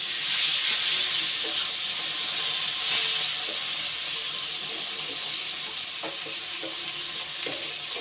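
Fish fat and potatoes fry in a pan, a steady loud sizzle and hiss running throughout with occasional soft stirring clicks and pops.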